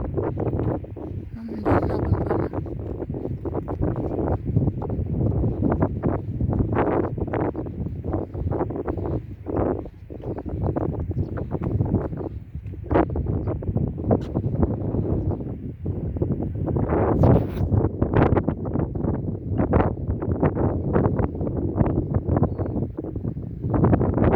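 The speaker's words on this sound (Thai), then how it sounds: "ลมมันเย็น" Steady wind buffets the microphone outdoors at the seaside, a continuous rushing roar with occasional gusts and faint voices in the background.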